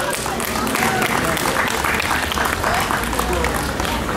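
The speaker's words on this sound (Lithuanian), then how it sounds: "Plojimai!" Sustained audience applause fills a kankliai folk concert hall in Vilnius, with dense, steady clapping from a large crowd that continues loudly throughout, close and enveloping.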